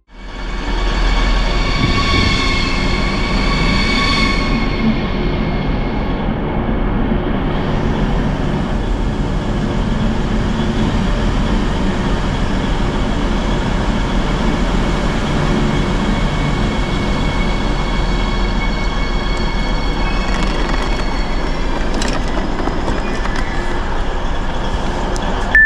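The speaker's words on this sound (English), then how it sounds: "we will listen and take a look at the arrival of the train in Erfurt main station" A Deutsche Bahn Desiro HC electric train pulls into Erfurt main station, its steady rolling rumble and hum loud and continuous, with brief squeals and rattles near the end as it slows.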